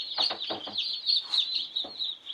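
Newly hatched bantam chicks peep in a constant stream of high, shrill cheeps, close by, with a few soft thuds and rustles underneath.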